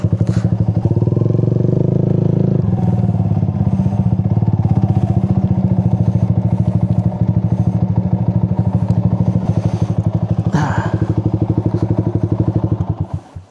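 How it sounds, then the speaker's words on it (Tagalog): Loud, close motorcycle engine idling and revving with a rapid pulsing beat, with a few clunks and scrapes as the bike is turned around on a coastal road in Real, Quezon. "Ay wait lang, ibuelta na natin tong motor."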